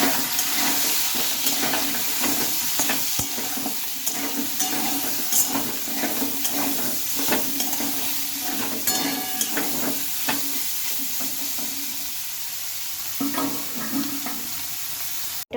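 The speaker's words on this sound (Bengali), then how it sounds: "সোয়াবিনটা দিয়ে নিয়েছি সোয়াবিনটাকে একটু ভালোভাবে ভেজে নিতে হবে" Soybean chunks frying in oil in a kadai, a continuous close sizzle with occasional stirring scrapes and clinks over the steady hiss.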